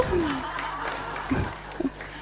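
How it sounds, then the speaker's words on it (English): A small business gathering offers a faint, thin round of applause for a few attendees, soft scattered claps under a speaking voice and a short chuckle. "we have a round of applause for these switched on people?"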